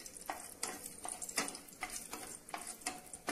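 Whole cinnamon, cardamom and cloves fry in a pan, a soft sizzle under repeated light scraping strokes of a spatula, close and fairly quiet.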